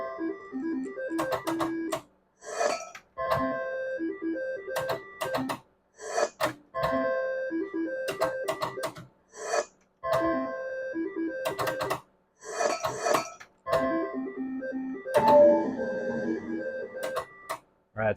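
Electronic slot machine sounding through a run of 30 spins at a 90% payback setting: repeated bursts of bright chiming reel-spin tones with short gaps between spins, loud and close, with no talking.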